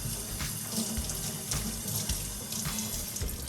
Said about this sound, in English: I give it a quick little rinse.